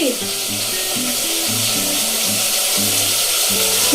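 Cut tomatoes sizzle in a hot pan with a continuous bright hiss and crackle, while a simple musical melody plays underneath.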